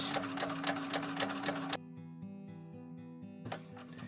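A sewing machine runs fast and loud through a 1/8-inch seam on a handbag exterior panel. Its steady whirring stops abruptly partway through, a softer mechanical hum lingers, and then the stitching bursts back in.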